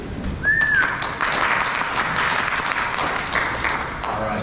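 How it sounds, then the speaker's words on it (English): Applause greets a speaker at a cybersecurity conference talk on ransomware, a steady moderate round of clapping from the audience with a brief high squeal early on. "a brief round of applause for Kraig."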